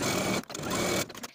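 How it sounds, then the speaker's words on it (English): Sewing machine stitching close to the folded top edge of fabric for a shirred blouse, a close, steady whirring hum that briefly stops and then restarts. "Take it to your sewing machine and sew close to that inner folded edge all the way across."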